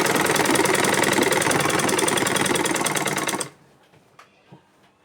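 A sewing machine stitches a lungi in one loud, steady, fast run that stops abruptly after about three and a half seconds, leaving a few faint taps and clicks.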